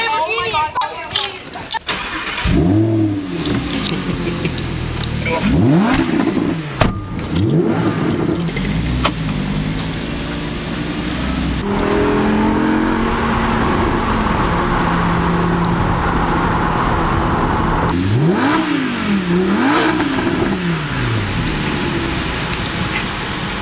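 A Lamborghini pulls away with its engine revving repeatedly, rising and falling in pitch through the gears under steady outdoor noise while people talk nearby.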